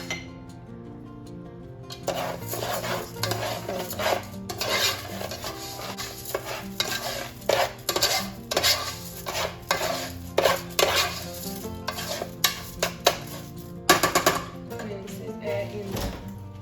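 Rice stirred in olive oil in a pan: repeated scraping and clinking strokes of a utensil against the pan, fairly close, steady and busy after a quiet opening, with a soft sizzle underneath and no talking.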